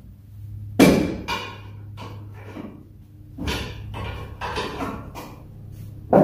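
Several sharp metallic impacts of a hammer on Dodge Dakota clutch parts ring out at irregular intervals, loud and close, with quieter clanks and shuffling between them.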